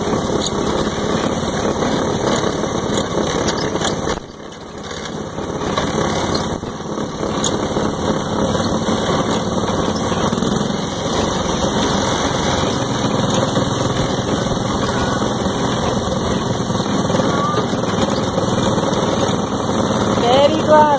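A car engine drones steadily as the vehicle drives along, a loud continuous hum with road noise that dips briefly once and then carries on unbroken throughout.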